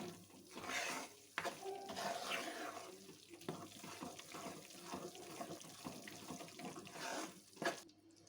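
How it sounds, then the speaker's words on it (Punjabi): Poppy seeds roast in ghee in a pan with a soft, steady sizzle and repeated stirring scrapes, fairly quiet and close, a few sharper knocks of the utensil against the pan, no talking. "1 ਮਿੰਟ ਲਈ ਖਸਖਸ ਨੂੰ ਵੀ ਭੁੰਨ ਲਾਂਗੇ"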